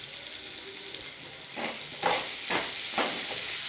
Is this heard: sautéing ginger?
yes